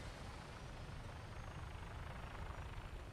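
A Fallout 4 vertibird aircraft takes off with a steady, loud, rumbling rotor and engine roar, continuous and close with no voices.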